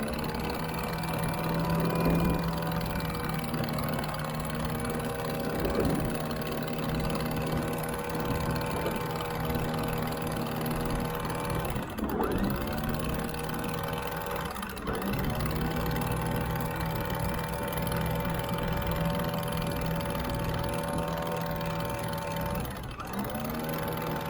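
A sailboat's motor runs steadily under way in a continuous mid-pitched drone with a soft tonal hum, holding an even moderate loudness throughout with no talking.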